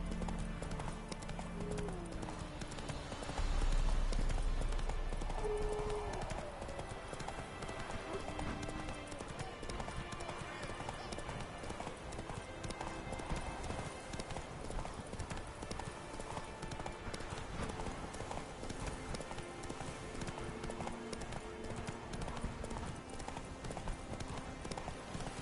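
Roach, a horse in a video game, gallops in a steady, unbroken clip-clop of hooves with faint game ambience and occasional voices underneath, going on without a break for the whole stretch.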